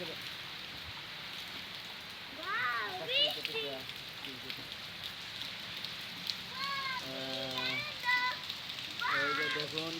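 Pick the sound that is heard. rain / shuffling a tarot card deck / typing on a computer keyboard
rain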